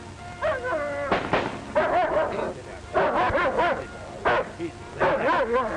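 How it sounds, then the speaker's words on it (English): Several military dogs bark and yip in agitated bursts at loud explosions, with whining, frightened-sounding cries between the barks, close and loud. "Pal and the others bark, frightened and angry"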